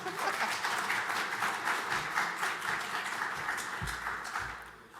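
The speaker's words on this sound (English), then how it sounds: "a round of applause" An audience at a conference event in Lisbon gives steady, fairly quiet applause as a speaker walks on stage, thinning toward the end as a low thump sounds near the close.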